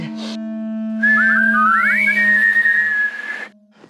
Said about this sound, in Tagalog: Pag sumipol lang tayo, susulpot yun?